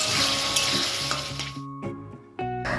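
Tomato fries with spices in hot oil, giving a loud, steady sizzle with scraping stirs, briefly quieting before the hiss surges back, all close and without speech.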